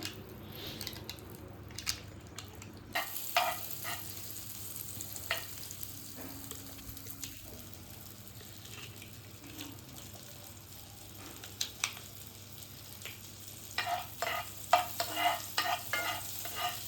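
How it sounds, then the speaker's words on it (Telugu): Butter sizzling in a heated pan while a spatula stirs and scrapes, a soft steady fry with scattered clinks and a busier burst of stirring near the end, close and fairly quiet, no talking. "ఇప్పుడు ప్యాన్ తీసుకొని ప్యాన్ వేడి చేసి ప్యాన్లో బటర్ వేసుకోవాలి"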